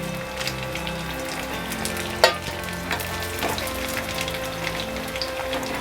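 Chicken for chicken Manchurian fries over a medium flame with a continuous crackling sizzle, rather like rain on a surface, plus one sharp clack of a utensil against the pan partway through, with no talking.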